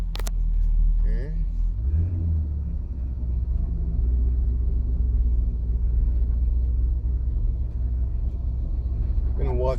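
A 1965 Chevrolet Impala engine rumbles steadily and close, holding a low, even drone as the car pulls away, with brief clicks at the start and a faint rise near the end.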